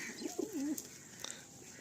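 A tournament flying pigeon coos softly a few times in a low, rolling call, followed by quiet background ambience with no talking.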